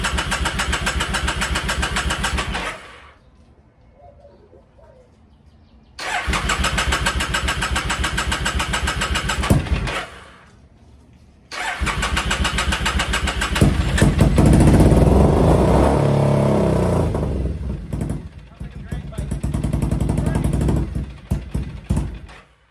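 A slightly flooded Triumph Thruxton 900 motorcycle cranks in several loud bursts separated by quiet pauses, then catches and runs with a rough, revving roar before dropping back, all close up.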